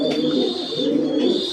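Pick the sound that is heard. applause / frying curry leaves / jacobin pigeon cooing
jacobin pigeon cooing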